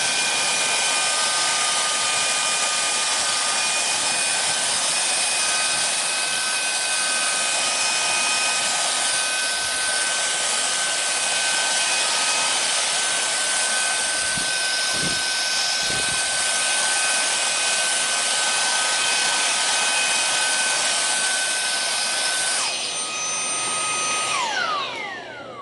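Two handheld vacuums, a Dyson DC34 and a Wyze, run together on high power, giving a loud, steady motor whine with a high airflow hiss that holds nearly unbroken, then one motor shifts pitch and winds down near the end.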